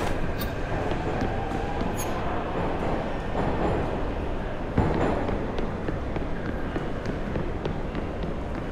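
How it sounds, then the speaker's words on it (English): A metro train rumbles steadily through a station in the video game Liberated, a dense continuous roar of wheels and rail noise with a brief clank partway through, loud and unbroken throughout. "metro station."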